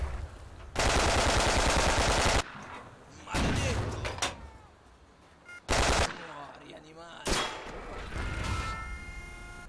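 Machine gun fire in the Red Orchestra 41-45 video game comes in loud sustained bursts, a long rattling stream followed by several shorter volleys separated by quieter gaps, with a voice speaking between them.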